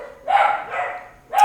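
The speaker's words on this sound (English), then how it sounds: "the dogs are going off because a car just went round the corner. So they're barking." Dogs inside a house bark at a car passing round the corner, giving two loud, close barks with a trailing whine between them.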